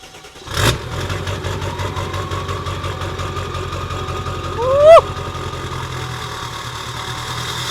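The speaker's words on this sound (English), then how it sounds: "yours actually getting the sound of the truck cranking" A truck engine cranks and fires with a sharp burst, then settles into a steady idle, with a brief rising rev near the end before it drops back to idling.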